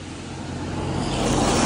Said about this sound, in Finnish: Autoja menee ja vettä sataa.